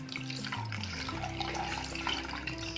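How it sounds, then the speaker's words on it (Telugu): Tamarind juice is poured steadily into a cooking pot for village-style drumstick sambar, a continuous close gurgling splash of liquid with a rising tone as the pot fills. "ఇప్పుడు చింతపండు రసం పోసేస్తాను"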